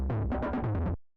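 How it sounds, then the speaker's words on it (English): Drum fill processed with heavy fuzz and boosted bass, a dense, gritty, distorted burst of about six quick hits over a thick rumbling low end, loud and alone, cutting off sharply after one second. "So I gave it fuzz. I turned the fuzz really high to kind of like make that low end really come out."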